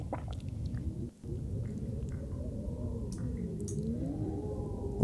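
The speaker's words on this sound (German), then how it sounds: "Es hört sich draußen nach Sturm an." Wind howls and rumbles steadily outside during a storm in The Long Dark, a low, continuous roar that swells slightly toward the end, heard from indoors inside a bunker.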